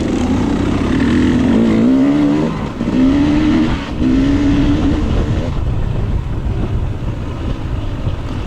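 A KTM 300 XC-W two-stroke dirt bike revs hard through a hare scramble trail section, its engine pitch rising and falling with throttle blips, loud and close with constant wind rush over the mount.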